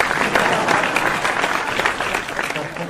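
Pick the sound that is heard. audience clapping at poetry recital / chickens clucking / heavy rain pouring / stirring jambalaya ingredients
audience clapping at poetry recital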